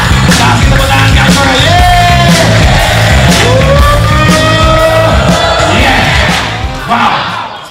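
A seminar crowd shouts and cheers loudly in unison, with yells and whoops rising together over a dense roar before tapering off at the end.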